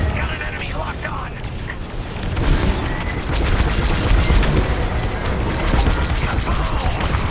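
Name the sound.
bombing explosions in video game Star Wars: Squadrons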